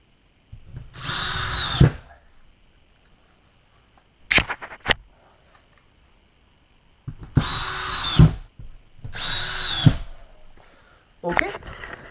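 A power drill drives screws into plasterboard during drywall and insulation work, with a screw every 25 cm. It gives several short, loud whirring bursts separated by quiet gaps, ending with a brief clatter.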